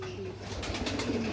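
Pet pigeons coo softly nearby, a couple of low throaty pulsing calls over faint room background.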